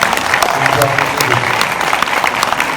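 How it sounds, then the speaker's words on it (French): Audience applause at a French film premiere, a dense steady wash of many hands clapping close by for the whole stretch, with a voice talking faintly underneath. "Vous pouvez l'applaudir."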